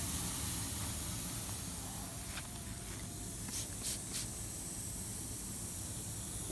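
Air hissing out of a small pinhole leak in a fiberglass Sunfish sailboat hull, a steady faint hiss close by, broken by a few soft taps and brief bursts.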